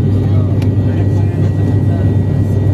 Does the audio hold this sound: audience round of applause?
no